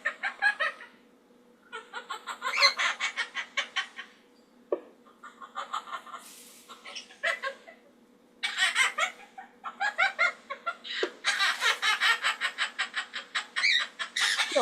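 A pet bird gives loud, raspy bursts of cackling calls much like laughter, in repeated clusters with short pauses, close by in a studio, with no one talking over it.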